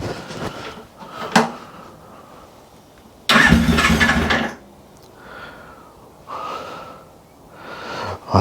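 A motorcycle engine, a twin rather than a single-cylinder Enfield, cranks in a few separate bursts while trying to start, one loud sustained churning burst in the middle with quieter attempts around it, close by.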